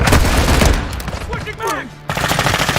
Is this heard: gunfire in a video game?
yes